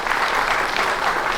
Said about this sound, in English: A huge round of applause then for the real life heroes who are already here